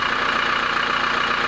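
A steady, even engine idle hums continuously with no change in pitch or rhythm, fairly close and with no voices.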